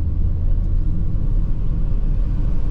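Hyundai Venue car driving in third gear, with a steady low engine drone and road rumble heard from inside the cabin at a constant level, no voices.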